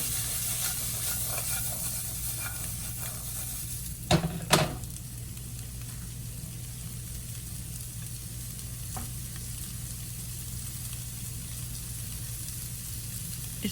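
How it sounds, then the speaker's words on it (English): Spices, onions and oil sizzle steadily in a frying pan as they are stirred for green beans, a low constant fry broken by a couple of brief scraping knocks, with no voices. "You're going to stir it for a minute till everything blends in and all the spices and onions and oil mix in."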